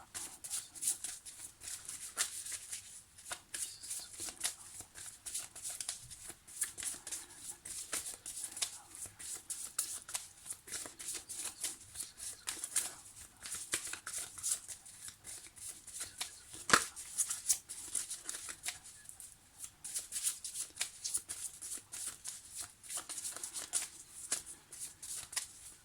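Tarot cards being shuffled by hand, a soft, continuous papery riffling and sliding that stays quiet and close throughout, with no talking.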